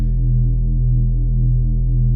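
Wavetable synth tone from Minimal Audio Current 2.0 blending wide mid-tones with a squarey, rounded sine, a loud sustained droning note with a slow, gently pulsing throb and no talking.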